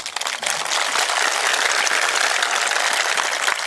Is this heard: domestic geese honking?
no